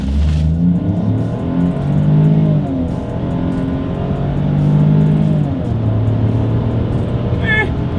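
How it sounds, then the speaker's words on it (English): A 2021 Ford Bronco Sport SUV with a three-cylinder engine accelerates from a stop. The engine note rises steadily and loudly through the gears, with a brief shift dip and a few short chirps near the end. "let's do a quick little acceleration test here in our Bronco Sport"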